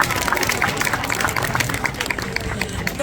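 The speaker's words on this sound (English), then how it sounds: "So why don't we give AMAC a huge round of applause here." An aquarium audience at the Vancouver Aquarium sea lion show claps and cheers for a sea lion, a steady, lively round of applause filling the space.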